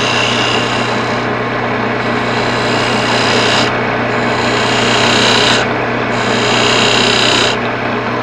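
A skew chisel taking a light cut on a spinning turned wooden lid on a lathe, a loud steady hiss from the tool with the motor hum beneath, the bright cutting sound swelling and dropping away in passes.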